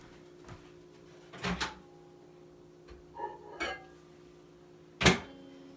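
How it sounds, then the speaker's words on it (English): Food for a keto sandwich comes out of a microwave: a few close knocks and clatters of the door and dish, ending in one sharp loud clunk, with a quiet hum underneath and no talking. "Just got it out of the microwave, so it's a little hot."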